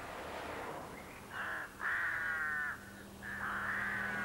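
Rooks foraging for seeds and carrion at the side of a road give several harsh caws in short bursts, close and clear over a steady background rumble.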